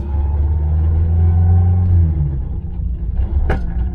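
A classic car's engine rumbles loudly from close inside the cabin while driving, pitch holding and then easing as it shifts into second gear, with a brief sharp click near the end.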